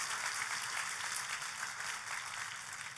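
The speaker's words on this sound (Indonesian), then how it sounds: "Kita kasih tepuk tangan yang paling meriah buat Tuhan kita" A church congregation gives sustained applause during a sermon, a dense, even wash of many hands clapping together that sounds somewhat distant and soft throughout.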